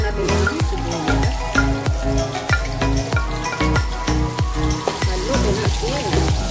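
Chopped onion fries in hot cooking oil for pancit canton, giving a steady close sizzle with frequent sharp crackles and pops. A voice is faintly heard.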